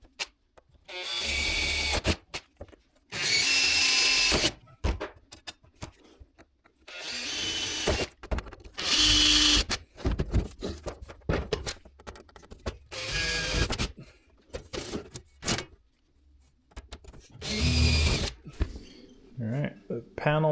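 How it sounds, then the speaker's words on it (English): A power drill whines in several bursts of a few seconds each, drilling holes in deck panels on a Ford F-350 flatdeck, close by, with quieter gaps and brief clatter between them. "I'm gonna drill some holes in this and get some screws in."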